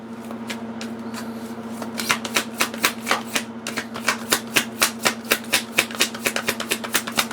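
A deck of tarot cards being shuffled by hand, riffled in a fast run of crisp, close flicks that speed up into a steady rhythmic patter toward the end.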